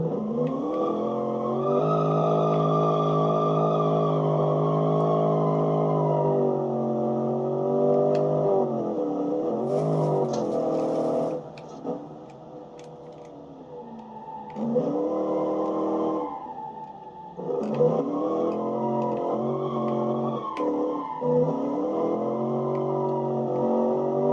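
A 2012 pony car, V6 or V8, is driven hard with strong harmonic engine drone, revs rising and falling across several gear changes and lifts, close and loud throughout.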